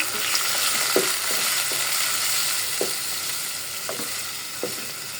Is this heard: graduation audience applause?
no